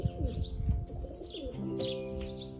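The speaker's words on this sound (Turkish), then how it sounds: "Kuşlarımız bunlar arkadaşlar. Emek verdiğimiz kuşlarımız bunlar." Game pigeons of smoky and spotted plumage kept in a loft near Paris coo in soft, repeated low calls, with a few brief chirps and wing rustles close by.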